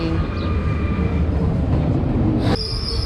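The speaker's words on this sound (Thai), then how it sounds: "รถไฟมาสองฝั่งเลย" A train arriving at a station in Thonon, France, with a steady rolling rumble and a high wheel squeal that rises sharply near the end, close and loud.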